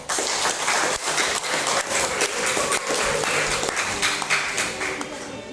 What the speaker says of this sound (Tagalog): So, another palakpak po sa ating lahat.